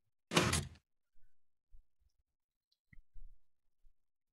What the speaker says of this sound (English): you can see the door shut